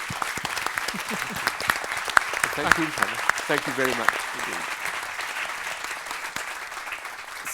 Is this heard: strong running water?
no